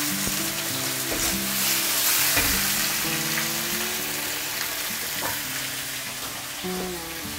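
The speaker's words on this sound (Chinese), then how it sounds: "好，这个时候我们稍微给它翻面一下，" Fish fries in a pan over medium heat after being flipped to cook the other side, giving a steady, close, even sizzle that runs throughout under soft background music.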